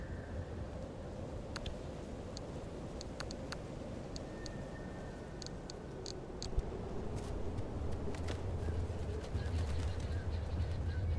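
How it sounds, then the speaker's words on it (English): Birds chirping faintly in the video game Pacific Drive over a steady low rumble of ambient noise, with scattered brief high calls throughout. "Birds."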